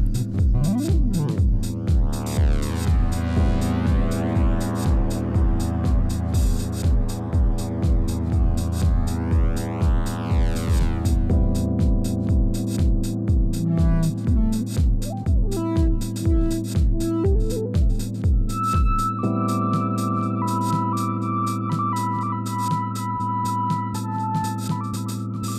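A catheter coil winding machine runs alone for a long stretch, giving a steady mechanical hum with rhythmic pulsing and whining tones that rise and fall in pitch as the spindle speed changes between segments.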